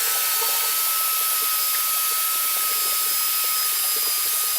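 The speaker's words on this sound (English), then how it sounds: "1/4-inch diamond bit and drills a nice 1/4-inch hole" A 1/4-inch diamond bit drills a wet hole through wall tile for grab rail toggles, giving a steady high whine and hiss with faint scraping ticks, continuous and close.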